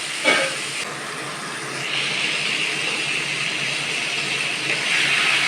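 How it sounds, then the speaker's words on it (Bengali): Marinated chicken pieces, added without their sauce, sizzle in a hot pan. After a brief clatter, a steady, loud hiss builds and holds, with no one speaking. "এইবারে আমি এর মধ্যে চিকেনটাকে দেবো, ম্যারিনেট করা চিকেনটা"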